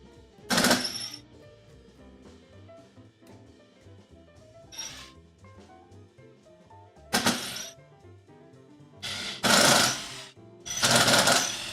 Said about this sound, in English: Now I can drill with abandon.